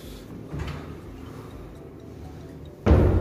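A wooden cabinet door is fitted with concealed hinges, giving a soft knock early on and then a louder, close wooden clunk near the end over a quiet room.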